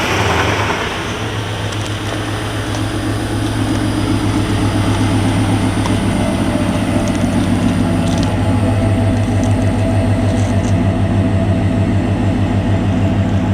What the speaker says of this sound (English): Hearing that exhaust?